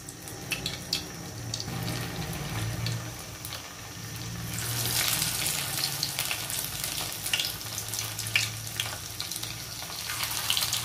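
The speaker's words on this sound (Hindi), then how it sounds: "हम अपने क्यूब्स फ्राई कर लेते हैं।" Paneer cubes fry in groundnut oil with a continuous bubbling sizzle that swells louder halfway through, steady and close, with no talking.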